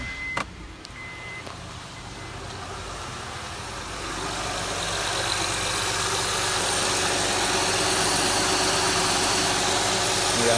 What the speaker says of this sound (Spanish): encendemos el vehículo.